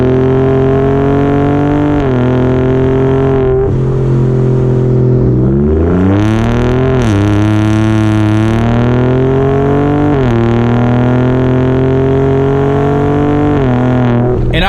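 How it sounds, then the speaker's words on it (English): A Ford F-150 Raptor fitted with an AWE exhaust revs loudly and close up, its engine note rising and falling through several throttle blips over a constant deep idle rumble. "you're not expecting this sound to come out of this truck."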